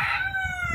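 A rooster crows once, close and loud, among hens and roosters at a family ranch, with low clucking and farmyard murmur underneath.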